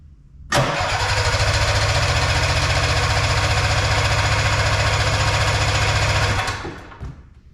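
A small snowmobile engine, just refitted with its carburetor, catches and runs steadily on its own for about six seconds, loud and close, with a rapid buzzing rhythm, then cuts out and dies.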